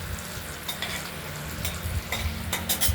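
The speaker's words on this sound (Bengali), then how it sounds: "ধীরে ভেজে নিচ্ছি" Paneer pieces frying slowly in a pan and being stirred, a steady close sizzle with spatula scrapes and bursts of popping oil growing busier near the end, no voices.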